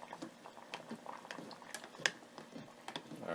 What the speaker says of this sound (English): I'm going to let this boil for about another 5 to 10 minutes just to make sure they're good and done